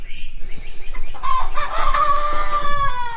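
Chickens turned loose in a pasture cluck nearby while a rooster lets out a loud, drawn-out crow that fills the middle and end, close and clear with no talking.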